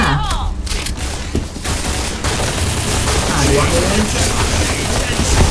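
XM8 assault rifle fire in the shooter Point Blank, sustained loud bursts of automatic gunfire filling the whole stretch, with someone talking over the shooting.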